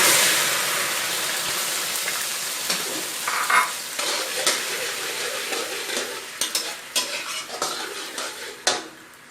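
Soy sauce going into vegetarian braised pork intestine frying in a pan, with loud sizzling at first that settles into stirring, scraping and clinks of a utensil against the pan, close up.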